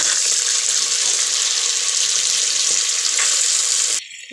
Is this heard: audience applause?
no